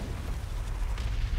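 An orbital strike explosion in the real-time strategy game Dawn of War 2 Retribution, a steady low booming rumble that rolls on without pause through the short stretch.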